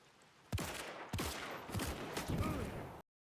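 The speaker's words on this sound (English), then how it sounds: "That's a decent gamer shooting for you" Video game gunfire cracks out in a rapid cluster of sharp shots, including two loud reports and several quicker bursts, before cutting off abruptly to silence.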